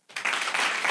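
A live comedy-show audience breaks into applause, a short burst of dense clapping that starts abruptly and holds steady.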